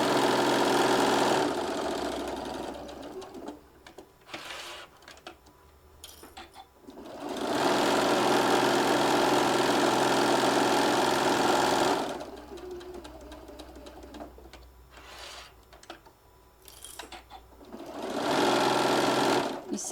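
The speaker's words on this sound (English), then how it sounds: "let's get this stitched all the way around. And again, I'm just doing a 1/4 inch seam all the way around." A sewing machine runs a 1/4 inch seam in long steady bursts of rapid mechanical whirring, stopping and starting several times, with people talking in the pauses between runs.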